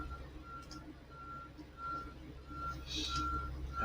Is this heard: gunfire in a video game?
no